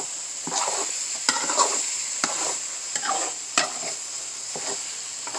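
Hamburger meat browning with onions in a pan for lasagna, a continuous sizzle with regular spatula scrapes and knocks against the pan every second or so.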